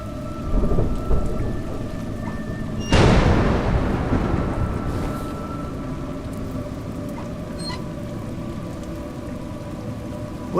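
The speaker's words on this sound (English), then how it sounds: "It's raining." Steady rain pours throughout, and a loud rumble of thunder breaks in and slowly rolls away beneath the downpour.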